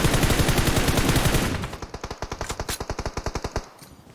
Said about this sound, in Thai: ยิงอีกไอ้ปัด